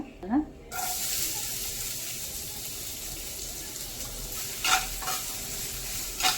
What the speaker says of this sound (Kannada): ಸ್ವಲ್ಪ ಗೀನೇ ಹಾಕಿ ಈಗ ಆನಿಯನ್ ಫ್ರೈ ಮಾಡ್ಕೊಳ್ಳೋಣ